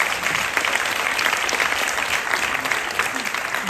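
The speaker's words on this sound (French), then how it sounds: "Ok, vous pouvez applaudir." An indoor audience at a talk applauds steadily, a dense, even wash of many hands clapping at moderate distance with a faint crowd murmur underneath.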